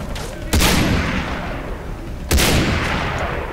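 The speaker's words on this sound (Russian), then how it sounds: "О, вот это снайперка" Two heavy sniper rifle shots from Far Cry 3 boom about two seconds apart, each loud and close with a long rumbling tail over steady game ambience.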